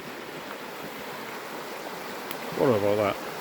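A river flows near a cold wild camp in the woods, a steady soft rushing of water, with a person's voice briefly rising over it near the end.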